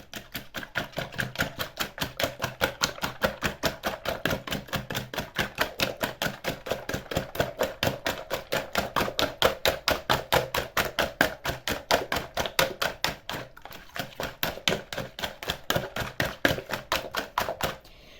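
Eggs with a pinch of salt and ground paprika are whisked in a bowl, making quick, even clicking taps at a brisk steady rhythm that runs without a break, close and moderately loud.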